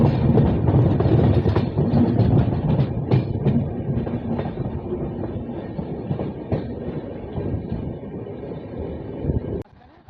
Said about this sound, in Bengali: আমাদের ট্রেনটা কিন্তু প্রায় 100 স্পিডে চলছে এখন